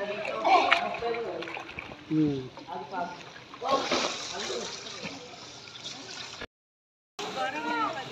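A mother splashes water over herself while bathing, with irregular splashes and trickling water close by, mixed with people talking and a brief silent gap near the end.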